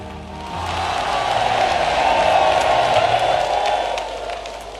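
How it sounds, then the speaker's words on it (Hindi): A large crowd at Bageshwar Dham applauds and cheers to welcome the Prime Minister, a broad, steady wash of clapping that swells through the middle and eases toward the end. "जोरदार ताली बजा करके हम सब पूरा बागेश्वर परिवार स्वागत करें"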